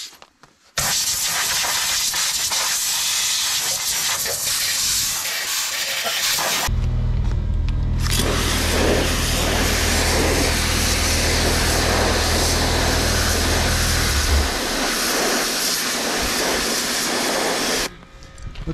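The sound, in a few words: compressed air blowing through car part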